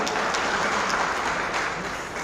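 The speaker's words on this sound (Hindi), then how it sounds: "जोरदार तालियां" Sustained loud applause fills a school awards ceremony hall, a dense continuous clapping that holds steady before easing slightly at the end.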